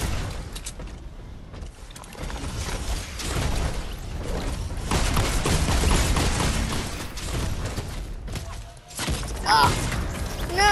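A self-destruct explosion in a video game erupts as a dense, sustained roar of blasts, crashes and thuds lasting around ten seconds, with a loud surge near the end.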